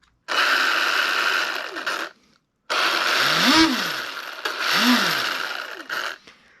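An Arrma Limitless 1/7 speed basher with its wheels removed revs its motor and gears in two long, loud whining bursts, each rising and falling in pitch, separated by a brief pause.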